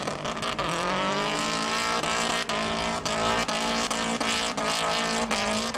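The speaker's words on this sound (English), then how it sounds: "In this battle for third place, the Legacy pops out of gear, handing the little trophy to Mark." Drift cars battling for third place at Calder Park, one a Subaru Legacy, roar past with continuous loud engine noise and tire squeal, heard close throughout.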